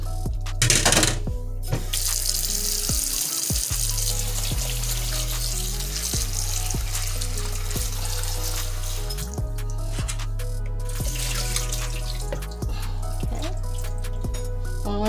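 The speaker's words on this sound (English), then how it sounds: "strain it, and then I'm gonna rinse it so it doesn't leave that vinegary taste to it." Canned jackfruit being rinsed under a running kitchen tap, a continuous loud splashing stream with repeated knocks and clinks of the strainer and fruit shifting, no voices.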